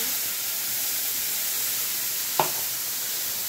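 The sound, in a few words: nigella seeds sizzling in hot oil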